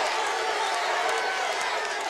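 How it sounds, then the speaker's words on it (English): A Mid South Wrestling arena crowd roars and cheers in a continuous loud wash, with no clear voice standing out. "Listen to this crowd."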